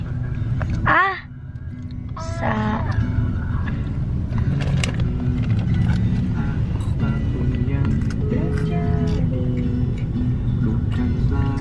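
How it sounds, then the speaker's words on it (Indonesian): Dense road traffic in a jam on the way to the toll road at Cawang, a steady broad rumble of idling and creeping vehicles fairly close and continuous, with a brief voice-like call near the start. "Arah ke tol macet sekali."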